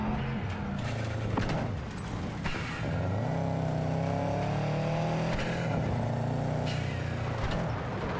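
A car driven in the Cyberpunk 2077 video game holds a loud, continuous engine drone that rises and falls in pitch as it accelerates and shifts, with brief tire noise and no talking.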